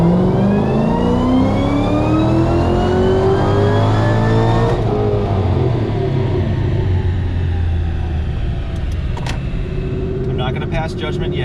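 A supercharged engine in a 2012 GT500 pulls hard in fourth gear, a loud continuous rising roar with a climbing whine that peaks and then eases, with brief clicks near the end.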